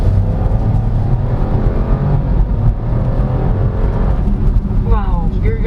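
A 2022 Chevrolet Trailblazer LT speeds up in normal drive mode, with steady engine and road roar building under continuous talking from the driver inside the cabin.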